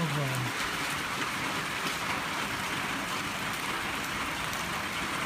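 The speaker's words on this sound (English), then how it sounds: "getting all this good rain." Steady rain falls on a garden in Southern California, an even, dense patter on surfaces that fills the whole stretch at moderate level, with a brief low voice fragment at the start.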